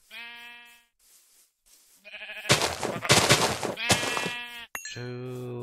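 Sheep in Minecraft bleat repeatedly, loud and close, mixed with sharp hit sounds from the sheep being attacked and killed, several wavering baas in quick succession with no talking.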